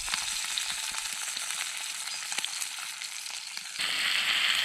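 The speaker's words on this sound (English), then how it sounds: "Hear that sizzle?" Trout frying in a pan at a forest campsite gives a steady, close crackling sizzle with dense pops and spits, swelling louder near the end.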